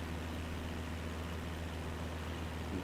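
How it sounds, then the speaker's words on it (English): A simulated aircraft engine, likely a DC-3 propeller plane, in a flight simulator game: a steady, droning hum with a low tonal rumble, continuous and even throughout, heard without talk. "Just faintly hear the engine back there,"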